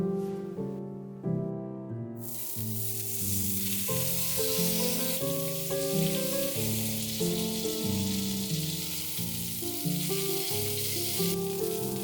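Frozen bacon fries in a pan with a steady, bright hiss that runs under prominent background music for most of the stretch.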